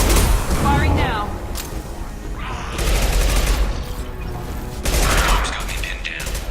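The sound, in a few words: gunfire in a firefight, from the video game Mass Effect 2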